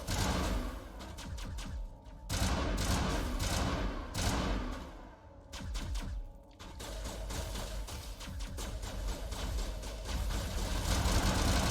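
Enemy gunfire in Mass Effect, sustained bursts of rapid shots hammering away loudly and close, with brief lulls between volleys over a rumbling game backdrop.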